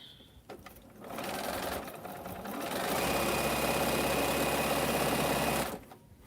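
A sewing machine stitches half-square-triangle quilt pieces, running in a steady continuous whir for several seconds with a short pause near the start and a louder, faster stretch before it stops.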